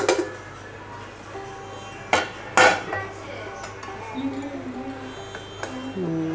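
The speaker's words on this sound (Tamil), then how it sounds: "இப்போ நம்ம குக்கரை திறந்து பார்க்கலாம்." A pressure cooker lid is worked open after cooking moong dal and sago kheer, with a couple of sharp metallic clanks and softer scrapes, close by in a quiet kitchen.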